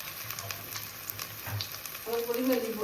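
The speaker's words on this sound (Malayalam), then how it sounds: "ഉള്ളി അരച്ചതാണിത്. ഇതൊന്ന് നന്നായിട്ടൊന്ന് സോട്ട് ചെയ്യാം." Onion paste with chili powder and coriander powder sautéing in hot oil, a soft steady sizzle under quiet kitchen sounds, growing a little louder as it is stirred.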